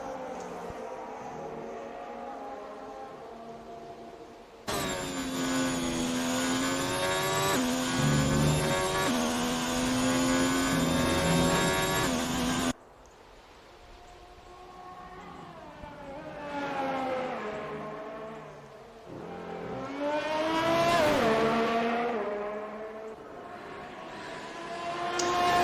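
Race car engine in a racing video game on a qualifying flying lap around Austria, high-pitched revs climbing and dropping through gear changes, steady and loud without talk.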